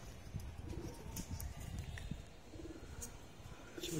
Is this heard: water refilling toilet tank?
no